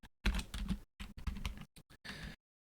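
Close, crisp typing on a computer keyboard, rapid bursts of key clicks broken by short pauses, with no one talking.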